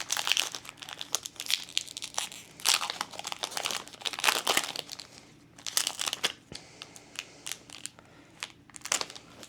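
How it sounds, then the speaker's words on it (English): Foil wrapping of an Archazia's Island Mad Hatter trading card pack crinkles and tears close up, in a steady run of crackly rustles and rips. "We're gonna open up our Mad Hatter pack next"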